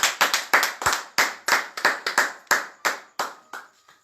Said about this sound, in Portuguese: Dá glória a Deus e aplaudir o Senhor